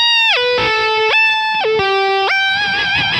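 Electric guitar through a whammy pedal in a preset, distorted notes swooping sharply up and down in pitch by large leaps, loud and up close with no talking.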